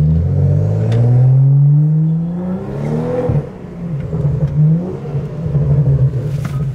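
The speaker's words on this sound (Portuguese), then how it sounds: "Um barulho de carro esportivo da hora" A BMW 435 sports car engine and exhaust rev up loudly nearby, climbing in pitch, dropping back with a crackle, then rising again in a second aggressive rev.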